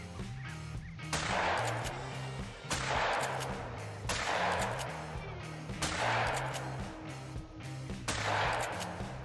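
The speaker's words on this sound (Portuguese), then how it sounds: "A hora que elas voarem, eu vou atirar." Cacciatore shotgun blasts at ducks in theHunter: Call of the Wild, five loud evenly spaced booming shots roughly every one and a half seconds over a low ambient hum and faint bird calls.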